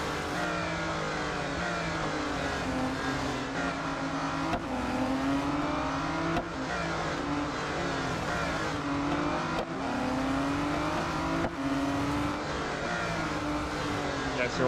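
Race cars in the mobile game Real Racing 3, including an Aston Martin Vulcan AMR Pro, roar through a lap with engines climbing through the revs and dropping on each gearshift, repeated sweeps of acceleration, close and loud, under occasional talk.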